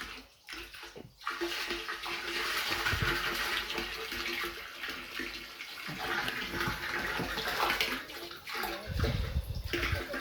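Water gushes steadily into a sprayer tank being filled with a hazelnut spray mix, a loud continuous rushing and splashing with some thumps near the start and end, and no voices.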